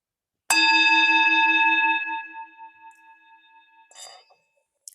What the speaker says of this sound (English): I'll ring the bell again.